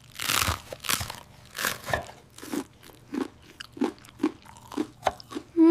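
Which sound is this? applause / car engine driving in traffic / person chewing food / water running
person chewing food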